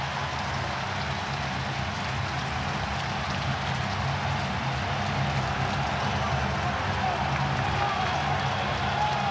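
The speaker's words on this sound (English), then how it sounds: "Crowd on its feet." A baseball stadium crowd at a Mets vs Brewers Wild Card playoff game roars and cheers in a continuous, dense wash of noise, with an announcer's commentary sitting over it throughout.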